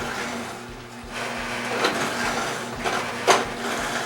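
The motor of an Omega TWN30S or Kempo twin gear juicer runs with a low, steady hum, joined by intermittent crunching and grinding bursts from the produce being pressed.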